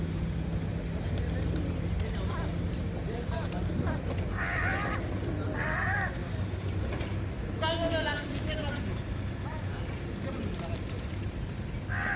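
Pigeons coo and flutter nearby against a steady outdoor background hum, with scattered bird calls rising over the constant noise.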